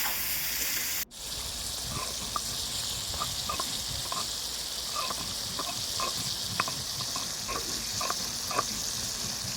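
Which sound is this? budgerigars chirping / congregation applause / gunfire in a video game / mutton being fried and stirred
mutton being fried and stirred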